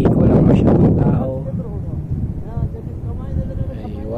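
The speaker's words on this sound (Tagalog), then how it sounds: "Mahangin presko." Wind buffets the microphone with a low, steady rumble at Dubai Creek in Deira, strongest at the start, as a person talks over it.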